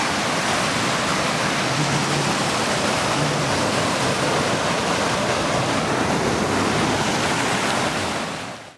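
Okanagan Creek in Monashee Provincial Park rushes loudly and close by, a dense unbroken roar of churning water that holds steady with no voices before fading at the very end.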